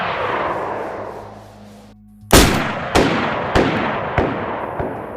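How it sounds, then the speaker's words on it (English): Double-barrel BK-43 shotgun in DayZ fires a loud, close blast followed by a run of decaying echo cracks at roughly half-second intervals, after a stretch of low wind-like rumble. "The BK-43 is the only other weapon alongside the Blaze that has double shots"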